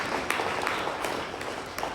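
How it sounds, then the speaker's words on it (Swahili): A church congregation at a Sunday service breaks into scattered, moderate applause. The clapping stays uneven and fairly close, with a few sharper claps standing out, and nobody speaks. "Si ungempigia Yesu makofi?"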